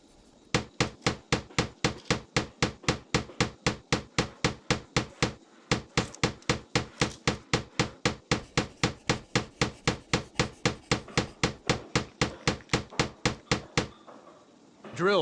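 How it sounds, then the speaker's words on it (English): Steady rhythmic hammering of soapboxes onto a wooden racer base in the Tonka Workshop video game, about forty evenly spaced sharp blows over a dozen seconds, with a short pause midway. "Now hammer the soapboxes to the base."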